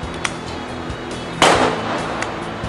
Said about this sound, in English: Shoot your bottom track to the floor.